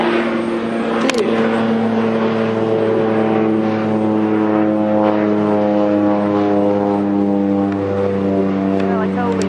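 A low-flying propeller airplane passes overhead near a backyard pumpkin patch, its steady droning engine hum loud and sustained throughout, with a brief sharp sound early on.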